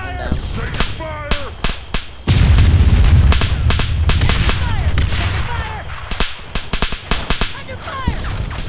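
Gunfire in Arma 3 combat, sharp shots snapping repeatedly, then a loud sustained roar of heavy fire or an explosion, followed by scattered cracks, with people talking over it.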